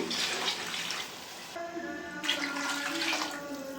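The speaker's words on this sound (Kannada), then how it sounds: "ಒಂದೊಂದು ಗ್ಲಾಸ್ ಅಕ್ಕಿಗೆ ಎರಡು ಲೋಟ ನೀರು ಹಾಕ್ತಾಯಿದ್ದೀನಿ" Water poured from a glass into a pot of frying chicken for basmati dum biryani, a continuous splashing gush that pauses briefly and then resumes, close by with no speech.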